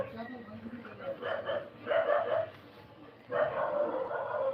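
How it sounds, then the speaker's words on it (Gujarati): Several dogs fight, snarling and barking in loud clustered bursts that swell, fade and flare up again, with voices mixed into the commotion. "કૂતરા વઢે છે બહુ છે"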